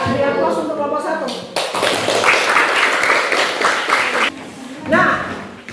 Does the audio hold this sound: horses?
no